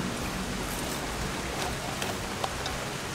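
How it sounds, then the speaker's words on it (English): Rain falls outdoors during open-air cooking in Jamaica, a steady, dense hiss of drops with a few louder individual drips, with no talking. "Ooh, it's about to rain. Oh, it is raining."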